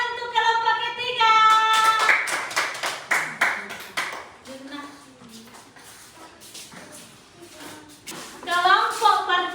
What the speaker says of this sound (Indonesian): Tepuk tangan untuk kelompok ketiga.